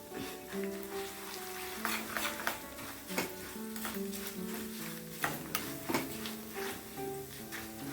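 Chili and tomato fry with curry leaves in a pan, giving a steady sizzle broken by repeated sharp clicks and scrapes of stirring, with a tonal backdrop running throughout.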